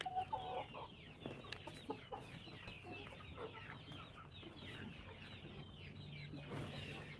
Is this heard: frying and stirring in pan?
no